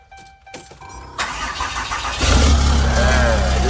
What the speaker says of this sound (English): All right, start it up.